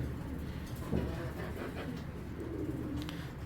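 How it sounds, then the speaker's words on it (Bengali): A pair of pankhi pigeons coo softly and repeatedly at close range, their low throaty calls over a constant background hum. "এক জোড়া পাঙ্কি কবুতর"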